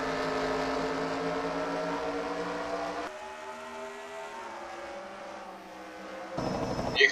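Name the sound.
NASCAR Sprint Cup race cars racing at New Hampshire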